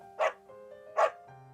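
A pet dog lets out two short, sharp barks about a second apart, moderately close over a faint steady hum.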